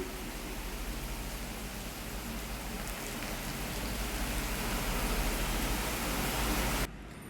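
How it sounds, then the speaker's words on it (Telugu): Heavy rain pours down in a steady, dense roar that fills the space without pause, then cuts off abruptly just before the end, leaving a quieter hush. "మా ఏరియాలో ఎంత వర్షం పడుతుందో, చాలా పెద్ద వర్షం పడుతుంది"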